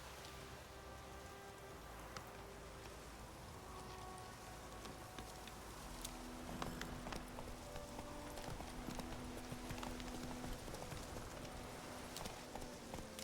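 Roach the horse's hooves clip-clopping at a walk in The Witcher 3, soft and fairly distant beneath steady rain pattering on surfaces, with a faint tonal ambience running through.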